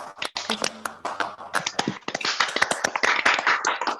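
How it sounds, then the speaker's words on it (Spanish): Loose, uneven clapping from a small group during an online spirituality class sounds close and slightly clipped, as if from open microphones, and grows busier toward the end. "fuerte aplauso."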